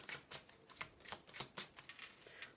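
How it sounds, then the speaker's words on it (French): Oracle of Mirrors cards are laid down over tarot cards in a series of soft, quick papery slaps and slides, about a dozen close, faint card placements in a steady rhythm with no talking. "je vais recouvrir les cartes avec l'oracle des miroirs"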